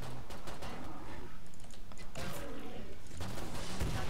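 Clattering gunfire from Killing Floor 2, quick sharp shots in irregular bursts over a busy, noisy game backdrop, with a voice briefly audible.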